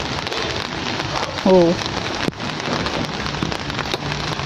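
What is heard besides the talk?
rain falling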